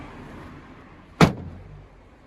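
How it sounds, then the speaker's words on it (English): An Audi A3 bonnet being shut, a single sharp, loud slam partway through, standing out from a quiet background with a short ringing tail. "Let me close the bonnet."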